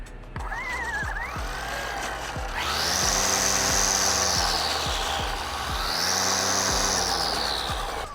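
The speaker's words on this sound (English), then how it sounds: "As you can hear, I can rev it and slow it down just as I need it." A Ryobi 40V HP 17-inch string trimmer whirs close by, its motor pitch rising and falling twice as the variable speed trigger is squeezed and eased, with a steady electric whine throughout.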